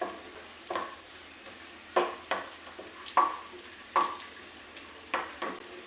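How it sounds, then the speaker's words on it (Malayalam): Continuous frying sizzle in oil over low heat, browning ingredients for biryani, broken by regular scraping stirs of a spoon against the pan about once a second, close and clear. "നല്ലൊരു ബ്രൗൺ കളർ ആവുന്നിടം വരെ നമുക്ക് വറുത്തെടുക്കാം"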